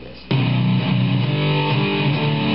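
Electric guitar plays a heavily palm-muted rock power chord, giving a thick, chugging distorted tone that starts suddenly and sustains close and loud without any speech.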